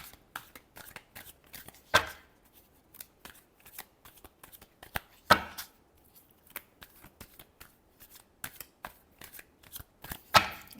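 A deck of tarot cards being shuffled by hand in repeated quick riffles and slaps, close and crisp, with brief pauses between shuffles and no talking.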